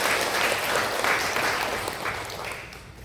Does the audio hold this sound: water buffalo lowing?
no